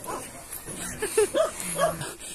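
A dog gives a few short, high yips and whimpering barks close by, with soft background noise and no steady rhythm.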